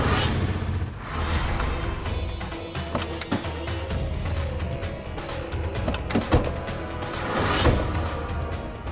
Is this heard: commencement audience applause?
no